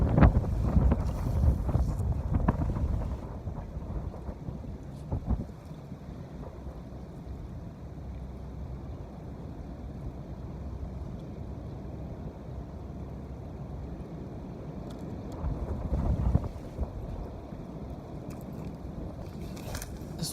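Strong gusty wind buffets the microphone outdoors at a park by fishing water, a loud low rumble that surges hardest at the start and again around the sixteen-second mark, with no voices heard.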